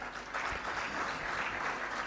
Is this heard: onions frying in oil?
no